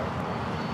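Airbus A320 airliner arriving at LAX, a steady broadband jet engine roar that holds at an even, fairly loud level throughout the brief moment, with no voices.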